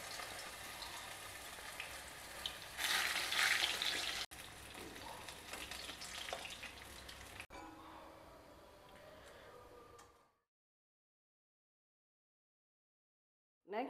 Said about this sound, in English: Likewise, fry the remaining vadais also.